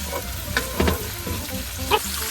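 Basil being stirred into sweet potato in a frying pan, with a steady sizzle under scraping and clinking of a utensil against the pan and a few sharper knocks.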